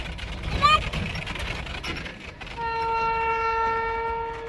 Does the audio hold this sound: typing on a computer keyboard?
no